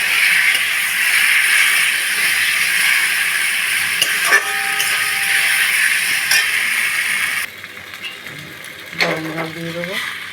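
Masala of tomato paste, ginger, garlic and turmeric sizzling loudly in a pan for Bengali egg curry, a strong steady hiss that drops abruptly when water goes in, with a voice speaking near the end.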